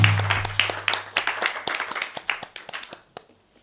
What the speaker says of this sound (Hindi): बहुत सारी तालियों में।